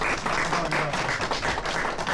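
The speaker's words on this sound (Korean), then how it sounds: "여러분들 세상 스탠딩 오베이션으로 기립 박수로 한번 해주시기 바랍니다" A standing ovation at the closing lecture of a Korean entrepreneurship academy graduation, a dense, steady wash of applause with no voices over it.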